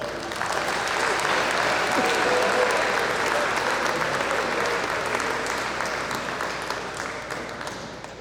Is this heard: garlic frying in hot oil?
no